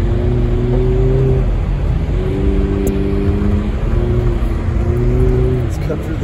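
A car spinning high-speed donuts and drifting, its engine droning loudly and continuously with repeated rising and falling revs as it circles, close and dominant throughout.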